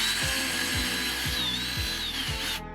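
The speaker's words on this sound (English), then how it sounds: "Now I put it on a drill because this box is gonna need about 70 of these." A power drill fitted with a cutting attachment punches rivets out of cardboard for a Halloween prop, close and loud, with about five repeated short bursts as the bit bites through.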